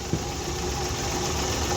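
Suzuki Mehran car engine idling with a steady, continuous low rumble and vibration, its fuel injector connector removed, heard close up with no talk.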